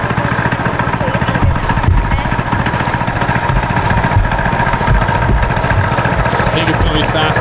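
A small-engine vehicle with a freshly adjusted throttle cable runs steadily close by, a loud, even, chugging idle-like drone throughout, with people talking over it.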